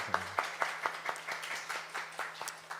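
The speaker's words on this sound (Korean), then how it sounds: "우리 박수 한번 해드릴까요?" In a Sunday church service, a small congregation claps for a newly licensed preacher. The claps are faint, with individual hits spaced evenly at a regular rhythm.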